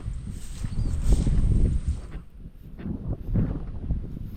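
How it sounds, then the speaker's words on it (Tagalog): Strong wind gusts roar and buffet the microphone outdoors after a storm, a dense low rumble that surges and eases over a few seconds. "Hangin ang malakas."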